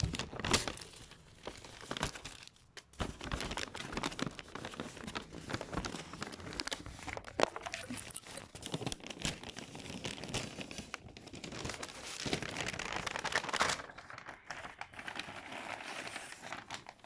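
Paper wrapping of a Burger King fish burger crinkled and torn open up close, a continuous rustling and crumpling that runs throughout with a few sharper crackles.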